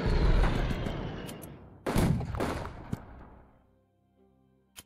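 An artillery bombardment in the World War II strategy game Unity of Command 2 rolls in as a dense burst of booming blasts. A second heavy impact hits midway, then the rumble fades to near silence with one last faint thud.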